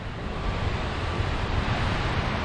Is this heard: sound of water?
yes